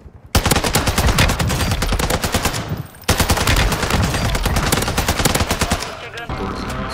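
Dense, rapid bursts of TAQ-V rifle gunfire in Warzone 2.0 fill the clip, pausing briefly near the middle before resuming, loud and continuous like a video game firefight.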